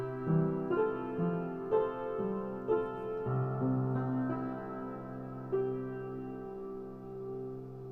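Soft piano notes played one after another, then together, each ringing out and blending into a sustained, gentle wash of sound.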